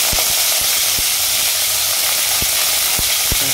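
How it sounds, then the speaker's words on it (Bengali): Green chilli and onion hit hot oil in a pan, raising a bright, steady hiss and sizzle with a few sharp clicks of utensil contact scattered through. "সঙ্গে দেবো গ্রিন চিলি এবং তার সঙ্গে অনিয়ন দিয়ে দিচ্ছি।"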